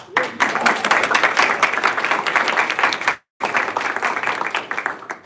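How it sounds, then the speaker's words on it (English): Audience at a Puerto Rico policy briefing bursts into applause, a dense, sustained clapping that fills the room, broken by a brief silent gap before resuming just as strongly. "I think that's another applause"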